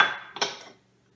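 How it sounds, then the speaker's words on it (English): Ceramic Fiestaware pie dishes clink together, a short bright knock that rings and fades quickly into silence. "These are little pie dishes."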